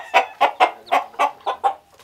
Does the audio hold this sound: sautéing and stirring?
no